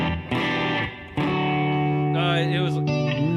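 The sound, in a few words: chord progression played on an instrument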